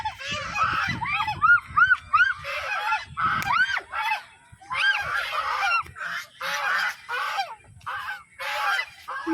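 A flock of geese honks loudly and repeatedly in bursts of overlapping calls, close by, with short pauses between volleys.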